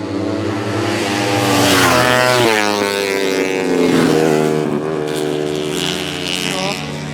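Racing scooters such as the Yamaha NMAX and Aerox and the Honda Click scream past on the Tarlac Circuit track, their loud engine whines rising and falling as several machines pass close by in quick succession.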